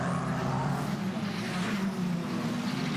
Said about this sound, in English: Jess Edgar breezes past on the main straight, and already as they head into the braking zone